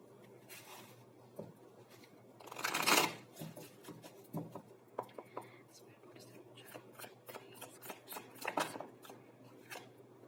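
Tarot cards being shuffled by hand, with a dense papery riffle burst near the middle and scattered soft card flicks and taps before and after it, close and fairly quiet.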